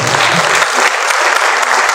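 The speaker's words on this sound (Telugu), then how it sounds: "ఒకసారి అందరూ కూడా వైటీ దాస్ గారికి చప్పట్లతో" An audience at a felicitation program for a steelworkers' union president applauds, a dense, continuous burst of clapping filling the whole short stretch.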